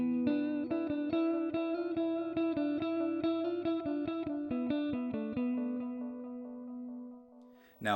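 A Joyo R-07 Aquarius delay pedal set to a tape-style delay: a run of plucked guitar notes with echoes trailing behind each one. The repeats sustain into a long fading tail before a sharp noise at the end.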